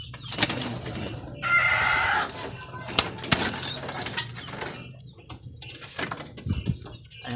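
Pigeons flying into a loft, with bursts of wing flapping and a few faint coos and chirps over a steady low background hum, close to the listener.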